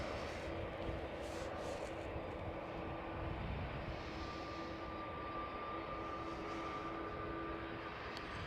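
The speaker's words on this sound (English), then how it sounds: "There goes the E2." An Embraer E2 jet airliner takes off at Schiphol Amsterdam, giving a steady, distant engine roar with a faint tonal whine. It holds even across the whole span with no voices.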